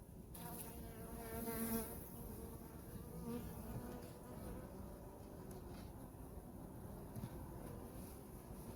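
A steady, dense buzzing of many honeybees at an open hive fills the air up close, continuous and fairly quiet, with a drone present and occasional louder passes near the microphone.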